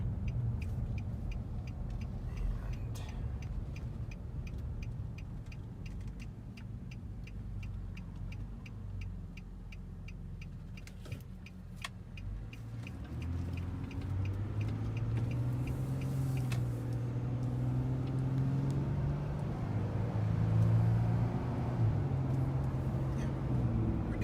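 A 2012 Nissan Frontier PRO4x pickup rolling at low speed, its low engine hum rising and falling gently with a faint ticking over a quiet cabin drone.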